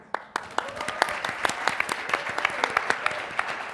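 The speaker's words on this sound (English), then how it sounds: "can we give a round of applause for Leslie?" Audience applause at a conference session, a steady patter of many hands clapping with sharp individual claps standing out, fairly close and sustained throughout, no talking over it.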